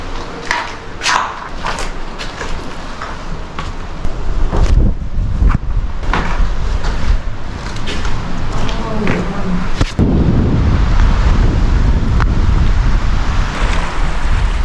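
Sea waves break on a Baltic shore in Latvia or Estonia, a continuous roaring wash buffeted by heavy wind noise on the microphone, with faint voices now and then beneath the surf.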